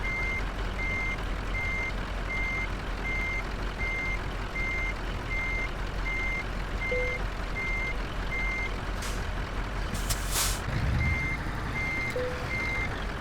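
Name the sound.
truck reversing with beeps, Scania in Euro Truck Simulator 2 video game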